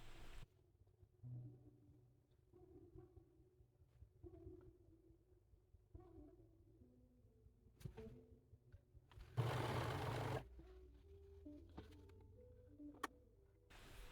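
A home sewing machine stitches sleeves into a garment in several short quiet runs of rapid mechanical ticking, separated by pauses, with one louder whirring burst near the end.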